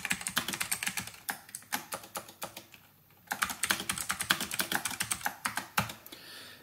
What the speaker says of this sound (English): let's do just a quick little typing demo and just do a hello world